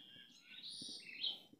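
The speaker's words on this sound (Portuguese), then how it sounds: "Aquilo é um carcalá." A caracara calls faintly from a distance outdoors. One hoarse, rising-and-falling call spreads over about a second and a half. Soft low rustling sits underneath.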